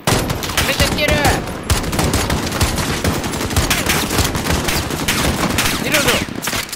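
Call of Duty Modern Warfare campaign combat, with loud, sustained gunfire and machine-gun bursts rattling continuously alongside shouted voices in the game.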